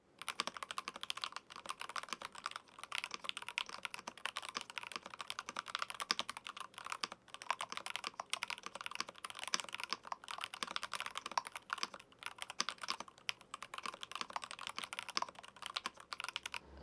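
Rapid, continuous clicking of keys on a computer keyboard, typed fast and evenly for a long stretch, close up and with no voices.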